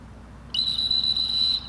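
A single sustained high-pitched whistle blast, about a second long, from a handler directing a retriever dog in field trial finals, clear and fairly close over a quiet outdoor background.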